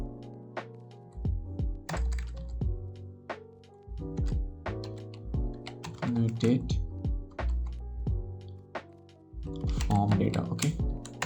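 Clacky keystrokes on a computer keyboard while code is typed for a React and Node.js restaurant POS app, coming in irregular bursts of clear close taps while someone talks over them.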